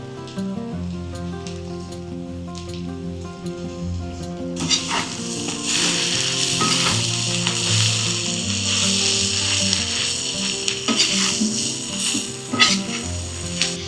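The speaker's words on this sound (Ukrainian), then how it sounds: "Тепер ми до того діла все додаємо морквочку." Julienned carrots tipped into a hot meat-filled cauldron set off a sudden loud, steady sizzle after a quieter start, the frying hiss continuing unbroken to the end.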